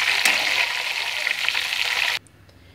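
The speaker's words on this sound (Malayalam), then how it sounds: "ഇനി നമുക്ക് നല്ല ചൂടിലിട്ടിട്ട് വേണം നമ്മൾ അവല് വറുത്തെടുക്കാൻ" Flattened rice (poha) frying in hot oil, a steady dense sizzle that runs loud and close for about two seconds, then cuts off abruptly.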